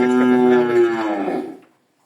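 A cow at a dairy farm moos once, a loud, close, sustained low call lasting about a second and a half before fading into silence.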